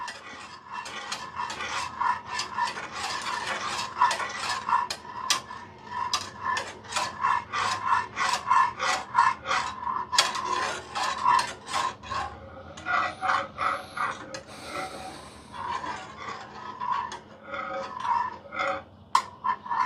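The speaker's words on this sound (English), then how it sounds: "Got to keep stirring it though." A spoon scrapes and rubs steadily against a pot while stirring butter, vanilla and egg yolk custard, a close, rhythmic rasping stroke repeated many times, with a brief pause near the end and no talk.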